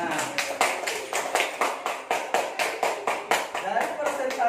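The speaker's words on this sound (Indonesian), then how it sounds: "Tepuk tangan." A class of students claps hands together in a steady, rhythmic beat, with each clap sharp and evenly spaced over a faint murmur of voices.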